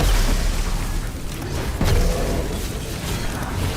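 Grenade explosions in a shooter video game, a run of dull booms and bursts with mechanical clicks between them, fairly loud and dense.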